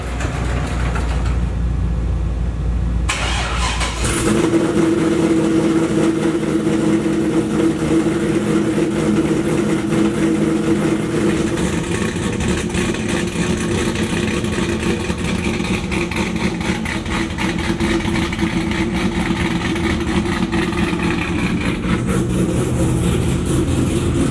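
A car engine cranks and catches, then settles into a steady, rumbling idle close by that runs on without a break and with no talking.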